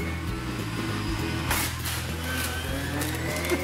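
A Riviera&Bar PR 776 A juicer running at speed 2 as a celery stalk is fed through, giving a steady motor hum with a brief crunching burst midway, close and continuous.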